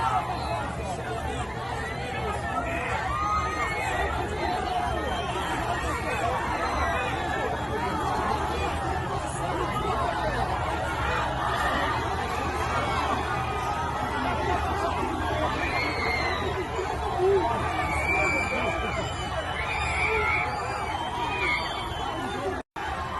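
Dense crowd of Flamengo supporters packed around the striker Gabigol on the team's arrival in Manaus, a continuous loud babble of overlapping voices with occasional shouts and cries, steady and close throughout.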